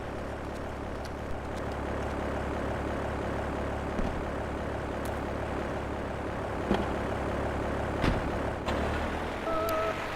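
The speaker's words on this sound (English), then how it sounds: "See, there's the plane." A propeller airplane's engine drones steadily in the video game GTA, a continuous buzzing hum from a plane sitting near a runway with a few faint clicks over it.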